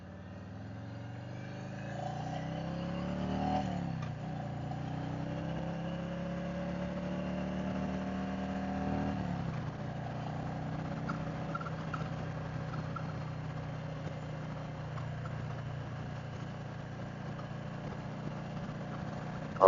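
Harley-Davidson Street Glide motorcycle riding along, its steady engine drone rising and falling through gear changes, loud and continuous with wind rush and no talk.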